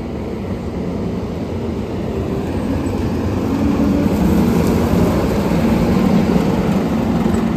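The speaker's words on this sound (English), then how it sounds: "Here comes the combine though." A combine harvester drones as it draws closer, its low engine rumble growing steadily louder over several seconds, with no talk.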